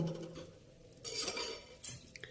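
A spoon stirs spices, bay leaf, cinnamon and curry leaves in a cooking pot, with soft scraping and a few clinks of metal, close and fairly quiet.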